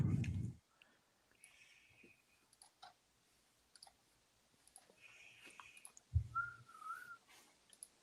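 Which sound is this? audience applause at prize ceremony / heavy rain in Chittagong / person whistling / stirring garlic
person whistling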